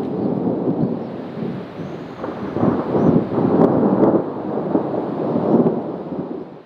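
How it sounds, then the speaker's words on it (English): A thunderstorm with rain on a mountaintop, rolling thunder rumbling low and long under a steady wash of rain, swelling louder midway and holding to the end. "As the thunderclouds rolled in and the rain started"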